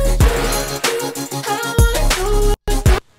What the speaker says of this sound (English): You just get a nicer kind of percussive hi-hat sound.